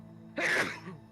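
A single sharp sneeze bursts out close by against quiet room background, brief and loud, then trails off.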